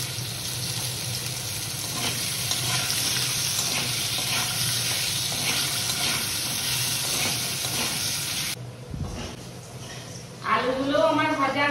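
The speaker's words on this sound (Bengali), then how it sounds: "এরপর আলুটাও ভেজে নেব।" Potatoes frying in oil sizzle loudly and steadily up close, with stirring noises, then the sizzle cuts out and a voice speaks over quieter sound.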